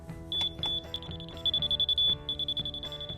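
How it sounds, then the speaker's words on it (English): A high-pitched electronic beeping from a laser level receiver on a leveling rod repeats in quick pulses, steady and fairly close, over a faint background hum. "when you hear that high-pitched beeping, it means that everything is on"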